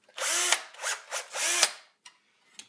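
A power drill bores out stationary pieces in bursts: four loud whirring runs back to back, then a pause and a couple of short faint taps, close up.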